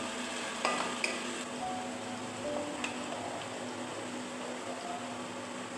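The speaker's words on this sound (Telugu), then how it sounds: "మీడియం ఫ్లేమ్లో పెట్టుకొని మసాలా వేయించుకోవాలి" Masala frying on medium flame for an Andhra-style fish curry, a soft steady sizzle with a few utensil clinks and scrapes near the start.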